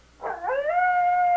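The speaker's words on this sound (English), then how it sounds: "Here's what a coyote sounds like." A single coyote howl rises from a rough yip into a long, steady, high wavering note, carrying clearly with no other sounds.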